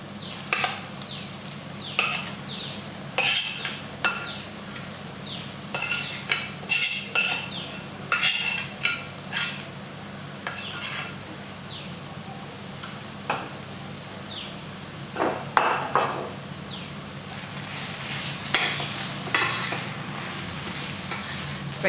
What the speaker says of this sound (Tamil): இப்போ இந்த ஆனியனோட இந்த ப்ரான் வந்து நல்லா கலக்கணுங்க.